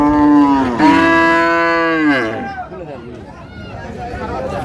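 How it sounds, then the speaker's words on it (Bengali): Improved-breed dairy cows and calves at a cattle market give one long, loud, close moo that rises then trails off, followed by muffled crowd noise and shuffling. "উন্নত জাতিদের গাভী বাছুর গরুগুলো বেচা কেনা হচ্ছে"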